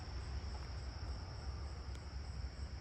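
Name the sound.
tree cricket chirping faintly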